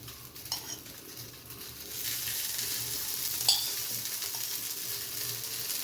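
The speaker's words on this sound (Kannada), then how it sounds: "ಆಯಿಲ್ ಹಾಕ್ಕೊಂಡು ಫ್ರೈ ಮಾಡೋಣ" Okra for fish okra curry frying in oil makes a soft sizzle that grows steadier after a couple of seconds, with light clinks of a spoon on the pan.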